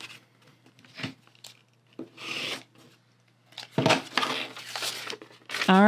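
Fabric for a Dear Jane quilt block being cut: a few close, rasping strokes with quiet pauses between them, and a short burst of voice at the very end.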